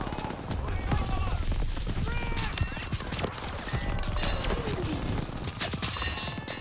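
Dense gunfire from a beach battle in Call of Duty WWII, with sharp overlapping shots and bursts that keep going without pause for the whole stretch, loud and close, with a voice-like murmur mixed into the din.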